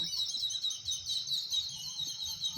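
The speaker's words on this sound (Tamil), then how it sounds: "குருவி எவ்வளோ அழகாக கத்துது பாருங்களேன்." A sparrow chirps in the morning as a steady, fairly faint run of high twittering calls over low background rumble, with no voices.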